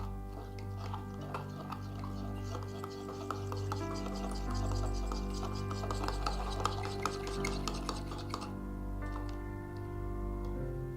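A whisk scrapes rhythmically through a homemade Irish cream mixture in a bowl, a quick steady rasping and ticking that stays close and fairly quiet, with a low hum underneath.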